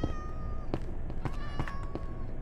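A cat in the video game Minecraft meows a few times, short separate calls over a busy in-game background of footsteps and block sounds, with no speech.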